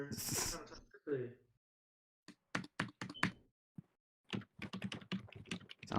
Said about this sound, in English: now we know who's typing so fast